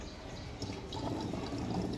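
Coloured water poured into a plastic Bisleri bottle, a steady gurgling stream that grows slightly fuller as the bottle fills, close and fairly loud without speech.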